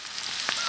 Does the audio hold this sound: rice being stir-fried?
yes